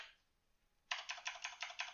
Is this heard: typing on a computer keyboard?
yes